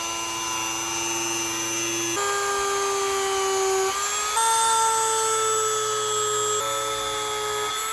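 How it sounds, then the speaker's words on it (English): A Dremel rotary tool with a small bit burns eyes and nostrils into a simple wood carving, a steady high-pitched whine that shifts pitch in steps as the speed and load change. "We're just going to use a Dremel tool right here with this bit on there to make some eyes, some nostrils,"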